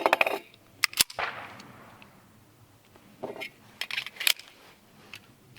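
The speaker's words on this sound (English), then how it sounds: "Since it's my first time shooting the 1066, we're gonna put a few more rounds through it." Sharp, loud pistol shots from a 10mm 1066 pistol, fired singly with uneven pauses in between, each crack followed by a short ringing tail.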